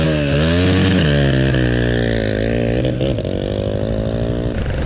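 A Lifan SR220 motorcycle with 5,000 km on it, a seized engine and bent valves, revs hard while riding on its rear wheel, a loud, close, continuous engine whine rising and dipping in pitch.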